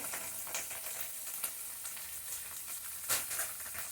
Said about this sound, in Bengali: ভালো করে মিশিয়ে নিন